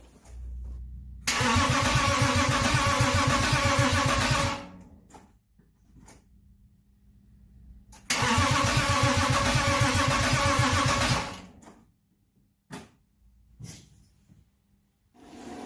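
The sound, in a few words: rebuilt BMW M52 car engine starting up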